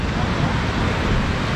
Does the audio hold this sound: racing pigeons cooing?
no